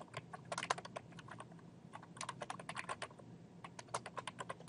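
Quiet, steady typing on a computer keyboard, with rapid close-up key clicks in uneven bursts throughout and no voices.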